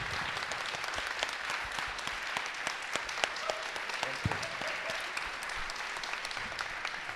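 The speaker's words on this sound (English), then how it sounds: "not before we have a great applause" Steady, fairly soft audience applause after a panel discussion on AI, a dense patter of many hands clapping evenly throughout with no voices on top.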